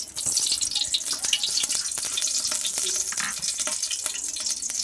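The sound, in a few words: ghee sizzling in a cooking pot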